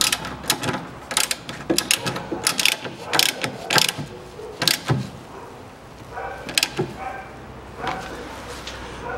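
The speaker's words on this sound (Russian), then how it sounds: "нижнюю гайку я затянул, затягиваю верхнюю" Ratchet wrench clicking in repeated bursts as it tightens the upper nut on a rear stabilizer link of a 2007 Citroen C-Crosser 2.4, close and fairly loud, with short pauses between runs of clicks.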